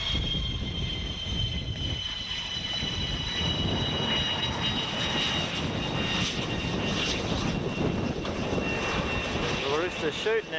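An RNZAF TA-4K Skyhawk jet taxiing along the runway at Ohakea, a continuous loud engine roar with a whining high tone, steady and close throughout.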